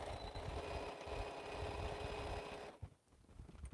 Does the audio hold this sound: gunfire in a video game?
no